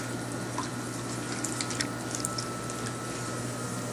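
Water splashes and squishes on wet clay on a spinning pottery wheel as a bowl is being thrown, a soft, wet, continuous texture over the steady hum of the wheel motor.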